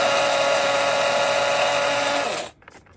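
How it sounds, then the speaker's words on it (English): An old electric coffee grinder grinding coffee beans makes a steady, high-pitched motor whine. It runs evenly for about two and a half seconds, then cuts off abruptly, followed by faint clatter. "It's an old grinder too."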